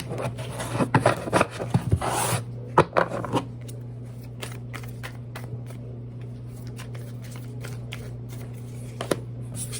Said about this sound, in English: So let's go ahead and get a couple tarot cards.